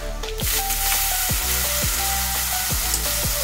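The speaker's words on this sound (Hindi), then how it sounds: "कढ़ाई लें, उसमें तेल डालें और फिर उसमें डालें राई, करी लीव्स, जीरा, हरी मिर्च और हल्दी" Mustard seeds, curry leaves, cumin, green chillies and turmeric sizzle steadily in hot oil in a kadai, a loud continuous frying hiss with occasional stirring scrapes, no voices.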